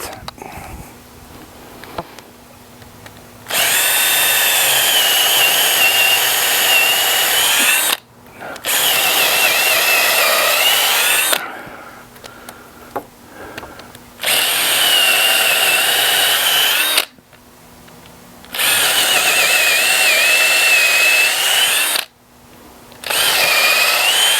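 A power drill whirs loudly in four long bursts separated by short pauses with small handling noises, close up as screws are driven into wood for a deck.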